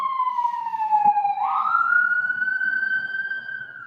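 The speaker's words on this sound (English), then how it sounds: "It was an ambulance." A wailing siren sweeps down in pitch, then rises again and holds steady as an emergency vehicle passes nearby, loud and clear above faint background noise.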